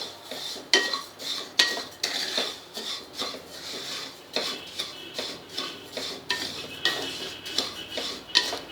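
A spoon scrapes and stirs coriander and cumin seeds dry roasting in a pan, a steady rhythmic series of rasping, rattling strokes repeating roughly every half second, close and clear with no talking.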